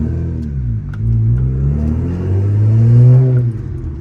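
A BMW with a manual transmission and freshly changed gearbox fluid accelerates, its engine note climbing, dipping at a gear change, then pulling up again to a strong peak before easing off, heard loud and close from inside the car.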